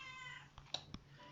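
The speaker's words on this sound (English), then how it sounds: "Sorry, that's my cat." A house cat meows a couple of short times nearby, faint sounds over a quiet room background.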